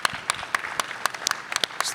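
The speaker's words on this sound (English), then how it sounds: "Round of applause, first of all, for all of you" Audience applause at a franchising conference, a dense burst of many hands clapping in quick irregular rhythm, moderately close and steady for the whole two seconds with no voices on top.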